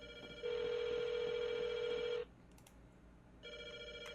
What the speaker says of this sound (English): My phone over here is ringing?